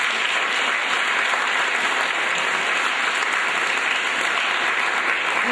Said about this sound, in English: I think you all deserve a nice round of applause for the great work that you did